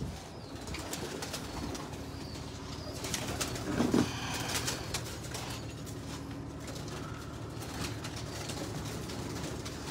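Breeder pigeons in a Faisalabad loft coo repeatedly and close by, their throaty calls overlapping above soft rustling and a low background hum.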